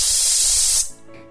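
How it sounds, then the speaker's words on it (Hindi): A kitchen pressure cooker cooking amla (Indian gooseberry) vents steam in a loud, steady, close hiss lasting under a second before cutting off abruptly into quiet. "ओकर बाद कुकर में 1 सीटी लगा लिया।"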